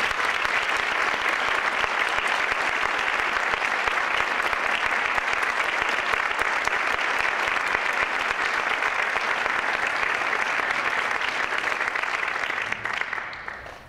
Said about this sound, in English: So one more round of applause for all of our friends.